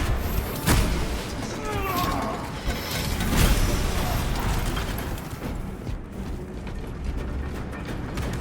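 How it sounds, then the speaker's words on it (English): An elevator arriving in the video game Warhammer 40K: Space Marine 2 gives a rattling mechanical grind of gears and ratcheting clanks, with a few sharper metallic knocks over a rumbling background. "The elevator's almost here."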